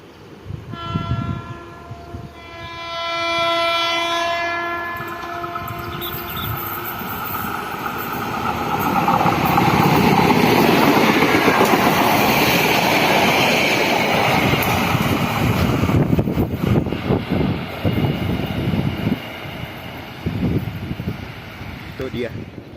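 Train sounding a long horn as it approaches, then rumbling loudly across a bridge in rural Wonogiri, with wind noise and a voice speaking over the passing cars.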